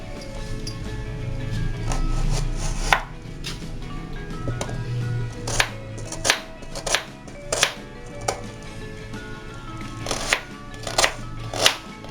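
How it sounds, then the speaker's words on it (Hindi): Two onions chopped with a knife on a board for vegetable kababs: irregular, crisp blade strikes, sometimes in quick pairs, close up over a low steady background hum. "अब 2 प्याज चॉप कर लेंगे"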